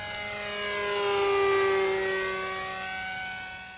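An RC model airplane flies a landing pattern overhead, its small engine giving a steady, high, tonal whine that swells and fades as it passes, heard alone and at moderate distance.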